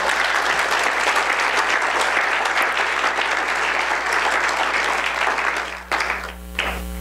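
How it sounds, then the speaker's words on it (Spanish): Loud, sustained applause from a church congregation fills the space steadily, dense clapping that fades slightly near the end as a tone or instrument rises underneath. "Le da un aplauso fuerte en esta hora"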